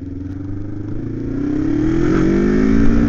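A motorcycle engine drones steadily while riding, its pitch and loudness climbing gradually as the bike accelerates, close and continuous with no talking.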